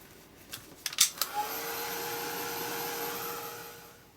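A hair dryer blows steadily on a mixed media art journal page, switching on after a few brief clicks and handling noises and running loud and continuous for several seconds before easing off.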